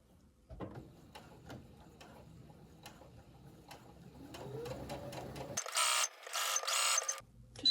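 A sewing machine stitches a tunic, giving faint, quiet ticking stitches at a steady rhythm. Short, louder mechanical bursts follow near the end.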